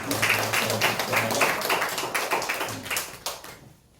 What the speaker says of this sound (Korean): 우리 환영의 박수 할게요